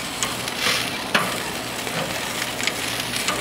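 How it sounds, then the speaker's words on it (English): Korean BBQ wings sizzling directly over charcoal on a grill as they are turned with tongs, a steady close fry hiss broken by sharp clicks and scrapes. "We'll flip them over."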